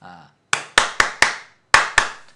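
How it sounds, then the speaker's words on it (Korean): A brief voice is followed by six sharp, close hand claps in an uneven rhythm, with a short pause before the last two. "박수를 부탁합니다."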